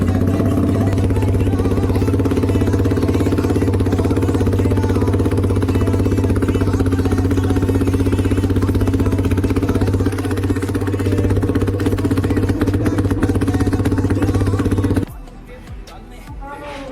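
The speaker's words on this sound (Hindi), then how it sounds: "अपने एग्जॉस्ट को ब्लास्ट करते हैं, फिर देखते हैं किस तरीके का साउंड आता है।" A Yamaha R15 V4 motorcycle fitted with an Akrapovic full-system exhaust idles loudly and steadily up close, with a deep, constant drone that drops away to a quieter rumble near the end.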